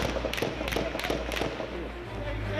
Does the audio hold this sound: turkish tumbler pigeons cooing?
no